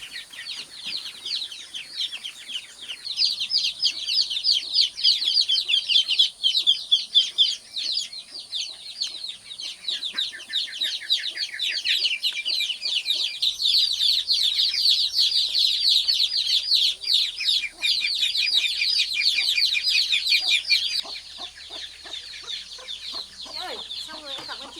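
Many chickens cluck and squawk continuously in a farm pen, a dense and loud chorus of overlapping calls that runs for about twenty seconds before thinning out.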